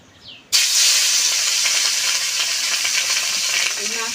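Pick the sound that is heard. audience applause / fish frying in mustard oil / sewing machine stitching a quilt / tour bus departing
fish frying in mustard oil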